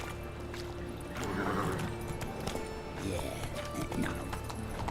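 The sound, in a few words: horse hooves galloping in a video game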